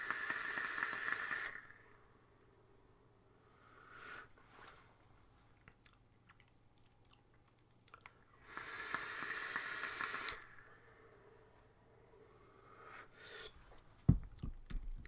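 Two long hissing draws on an e-cigarette fitted with a dripper atomizer, each a sharp sizzling rush lasting a couple of seconds, separated by quiet exhales and small handling clicks, close and fairly soft.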